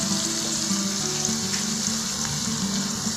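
Tomato and green chilli masala fries in a pan with a steady, dense sizzle that stays close and even throughout, with no talk.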